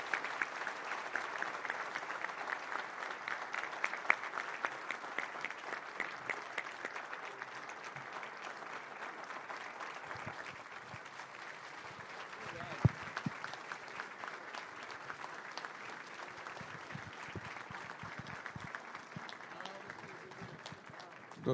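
Sustained applause from a full house at a legal association luncheon after a speaker finishes, dense and steady throughout with a few louder claps standing out near the end.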